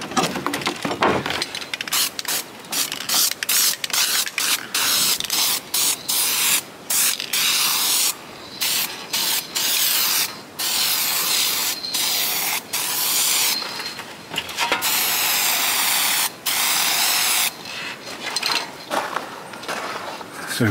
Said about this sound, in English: there you go, I did spray the stone.